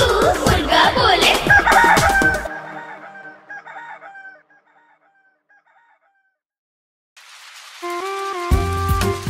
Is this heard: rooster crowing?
yes